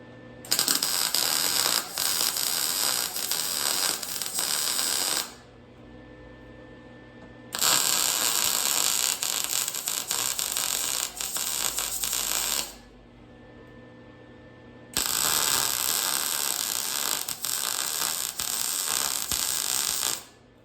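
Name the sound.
welding short runs on FJ-40 Land Cruiser running boards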